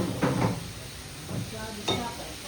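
Curry leaves frying in a pan for misal, stirred in a few short bursts of scraping and sizzle, near and moderately quiet, with light background noise and no clear talk.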